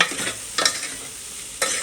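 Spiced puffed rice being stirred with homemade garam masala in a pan, with soft scraping and rustling strokes in a few short bursts, close and fairly quiet.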